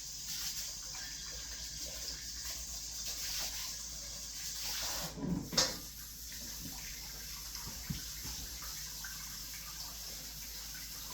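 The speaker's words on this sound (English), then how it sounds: "I'm just filling up the bowl so that the batter won't stick to it" Tap water runs into a mixing bowl after baking a Hawaiian carrot cake, a soft steady gush with a brief louder splash midway.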